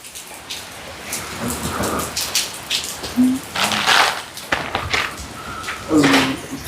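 Heavy rain falls in a steady hiss through the evening, joined by rolling thunder rumbles and a few nearby clatters, with some quiet talk in the background.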